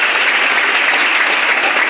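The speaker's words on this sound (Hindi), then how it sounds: "आप अपने लिए एक बार जोरदार ताली बजाएं।" A large audience claps loudly and steadily at a poetry recital in a hall, a continuous dense wash of applause with no talking.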